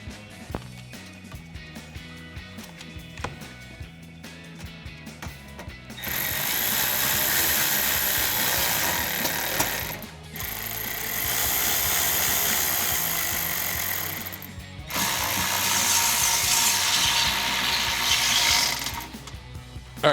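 A hand ratchet with a 5.5 mm socket tightening belly pan bolts on a 2005-2009 Ford Mustang, with close, rapid clicking at first, then long, loud stretches of steady mechanical whirring separated by brief pauses.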